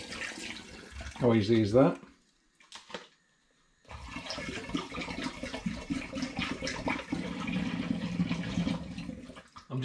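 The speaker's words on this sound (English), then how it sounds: "it's simply a case of just pouring the juice through a funnel into the demijohn." Cranberry juice is poured through a funnel into a glass demijohn, making a steady, close splashing gush of liquid that runs for several seconds after a short pause, with a voice speaking briefly over it.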